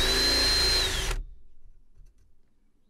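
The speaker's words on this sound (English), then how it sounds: "Just drilling a couple of pilot holes for the self-tappers." A close, high-pitched power drill whines steadily for about a second while drilling pilot holes for self-tapping screws on a motorhome, then stops abruptly, leaving faint low rumbles.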